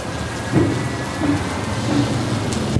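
Steady rain pours down during a windy downpour, a dense close hiss with low rumbles of thunder swelling underneath, and no voices.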